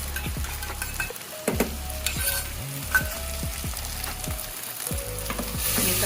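Garlic, ginger and green chili sizzling in a pan for Tibetan thukpa noodle soup, a constant close hiss with repeated stirring scrapes and light clinks, no talking.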